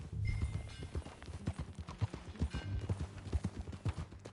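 A horse's hooves clip-clop in Red Dead Redemption 2, a close, uneven patter of steps at a walking pace with a faint snort or whinny mixed in.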